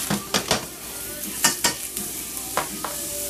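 Butter and a splash of olive oil sizzle steadily in a hot pan, browning ahead of salmon and jumbo shrimp piccata, with a continuous close hiss broken by several sharp spatter bursts and a few clinks of a utensil.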